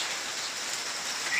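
Steady rain falls in a soft, even hiss with no talking over it; a faint bird chirp may be briefly audible near the end.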